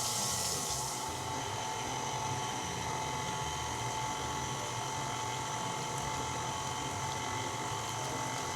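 Steady mechanical whirring of an electric mixer running continuously through thin cake batter, with a brighter rattling at the very start, no voices.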